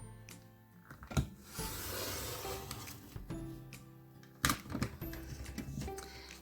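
A Creative Memories paper trimmer slides through cardstock for a pop-up card, giving a rough scraping cut with a few sharp clicks and taps, close and fairly quiet, with no talking.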